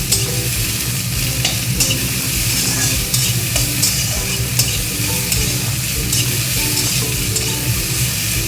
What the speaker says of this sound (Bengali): পেঁয়াজ আর রসুন একটু ভালো করে ভেজে নিতে হবে